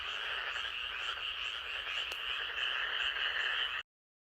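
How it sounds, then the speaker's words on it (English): A frog croaks in a steady, dense chorus for nearly four seconds, heard alone as part of a children's listening game about animal sounds, then cuts off into silence. "You heard a frog."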